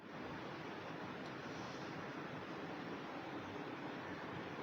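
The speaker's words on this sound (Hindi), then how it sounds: "बाहर तो जो है ना वो काफ़ी हवा चल रही है" Strong wind blows outside a house. It comes through as a steady, faint broadband rush with no distinct gusts and no voices over it.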